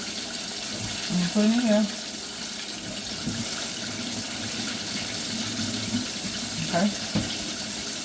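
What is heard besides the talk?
tap water rinsing food in a kitchen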